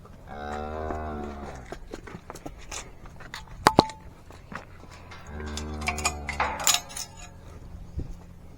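Cattle moo twice in long, harmonic calls, one early and one after a pause, with scattered clanks and shuffling noises in between.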